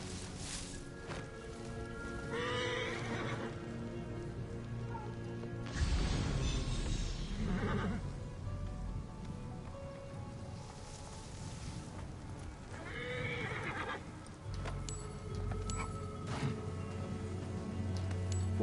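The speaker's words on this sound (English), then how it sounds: "Horses are making so much noise." Horses in the Assassin's Creed Origins video game neigh and whinny repeatedly, with clopping hooves and shuffling movement throughout a busy, continuous game soundscape.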